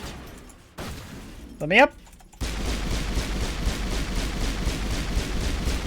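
Pistol fire in Mass Effect sets off a chain of explosions: a quiet stretch with a brief voice, then a sudden loud eruption of sustained rumbling blasts and rapid crackling bursts.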